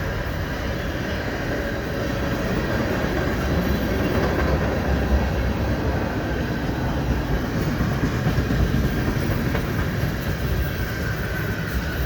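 A Canadian Pacific freight train's hopper cars roll past at Dorval in winter, a dense continuous rumble with faint clicking wheels that stays loud and close throughout, with no voices.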